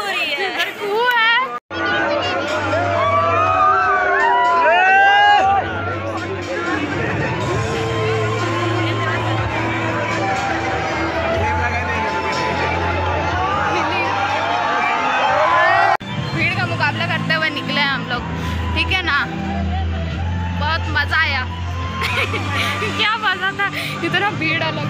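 A large crowd gathers at Jamshedpur's Founder's Day celebration, a dense outdoor hubbub of overlapping voices, children's shouts and chatter. Nearby people talk throughout over a low background rumble.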